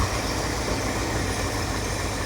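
A truck's 4-cylinder engine idles close by, a steady low rumble holding even throughout with no voices.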